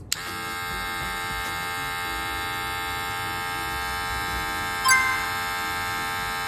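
A Wahl Magic Clip cordless hair clipper runs alone with a steady, close electric buzz and strong harmonic hum, holding an even level for several seconds, with a brief brighter rattle near the end.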